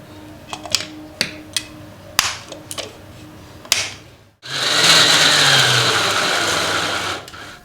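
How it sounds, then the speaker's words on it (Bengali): An electric mixer grinder runs, pulsing chicken pieces into mince for kofta: a series of sharp clicks and taps first, then a loud, steady whirring grind lasting about three seconds before cutting off. "এবার চিকেন দিয়ে অল্প অল্প করে আমি বেটে নেব।"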